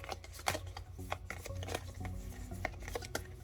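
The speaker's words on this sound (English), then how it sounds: "now we're gonna shuffle these" Rapid papery riffling of a tarot-style oracle card deck being shuffled, in several short bursts with soft taps between, close up and moderately quiet.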